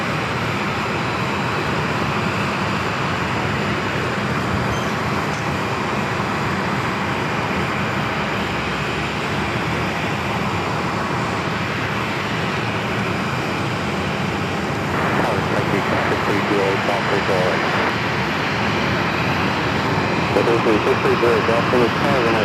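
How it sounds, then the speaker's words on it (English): An American Airlines Airbus A321neo arriving from Boston on landing approach at Phoenix, a steady broad engine roar holding throughout and swelling slightly near the end, with voices talking over it. "this next arrival, American Airlines 2575 coming in from Boston on the A321neo"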